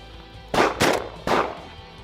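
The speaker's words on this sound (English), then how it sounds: "my 20 gauge took aim" Three sharp 20-gauge shotgun blasts fired at flushing quail during an Iowa upland hunt, two in quick succession and a third after a short pause, loud and close with no talking.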